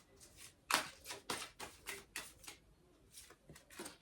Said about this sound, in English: Ah, my hands don't want to shuffle.